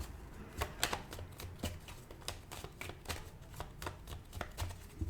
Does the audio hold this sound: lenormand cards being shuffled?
yes